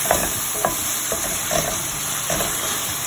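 Onion sautéing in a pan for chicken soup with pasta, a steady close sizzle with occasional scraping stirs and light clinks of a utensil against the pan, and no talking.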